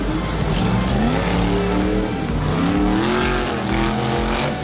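The Monster Zombie monster truck's engine revs and roars loudly at close range, pitch sliding up and down in repeated surges with a constant throaty growl underneath.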